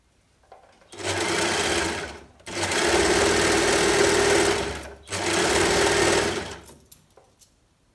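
A Brother Lock 2504D overlocker stitching dark-coloured garment seams runs in three steady whirring bursts of about one to three seconds each, close and loud, with short pauses between them and no talking.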